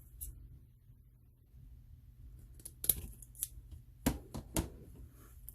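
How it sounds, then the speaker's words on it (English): Scissors snipping off pipe cleaner ends for a deco mesh angel ornament, a handful of quiet, crisp close-up cuts spaced irregularly, clustered toward the end. "I'm going to cut off the rest of the pipe cleaner ends."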